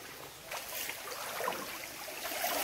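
Water from a small waterfall in a stream flows steadily with a broad, hissing rush, close by and continuous, with no voices over it.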